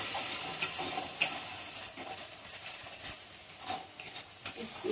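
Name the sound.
whole garam masala spices frying in pan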